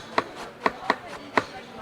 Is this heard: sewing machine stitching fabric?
no